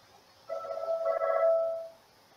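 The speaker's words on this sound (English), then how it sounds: "And my phone is ringing." A phone rings once with a moderately quiet, warbling electronic tone that lasts about a second and a half, against a soft background hiss.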